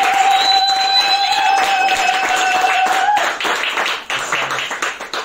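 A church congregation claps to welcome a guest speaker. The clapping is mixed with a sustained tone that cuts off partway through, and scattered claps taper off unevenly toward the end.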